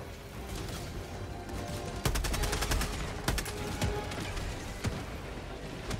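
Rapid gunfire in Helldivers 2, dense bursts of automatic shots crackling close and loud, with sharp clustered volleys breaking through a constant background din.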